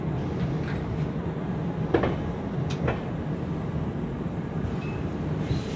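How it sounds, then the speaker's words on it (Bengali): Brahmaputra Mail pulling out of Malda station, a steady low rumble of rolling carriages with a couple of faint clanks and clicks, heard from inside the train at moderate volume. "ব্রহ্মপুত্র মেল মালদা 4 নম্বরে ডিপার্ট করছে একদম অন টাইম"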